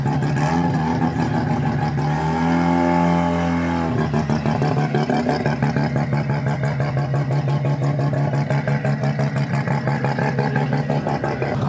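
A boosted car on air suspension revs hard, its engine roaring loudly with a rising pull, then settling into a rapid, pulsing burble that continues steadily for several seconds.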